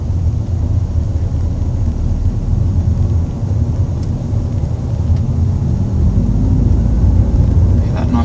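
Lexus IS200 engine pulling in third gear, a steady low rumble heard from inside the car, continuous and moderately loud with some outside noise around it.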